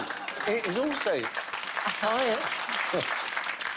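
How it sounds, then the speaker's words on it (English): Applause from a studio audience at the comedy panel show Mock the Week, moderately loud and reluctant, with people talking over it. "the most reluctant round of applause of all time"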